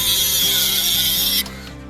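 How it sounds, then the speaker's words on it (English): A small Parkside cordless angle grinder cuts a bolt to length, giving a loud, steady high-pitched whine with grinding bite that stops abruptly near the end, leaving a faint motor rundown. "I'm just cutting the bolt to length with my little Parkside battery operated angle grinder."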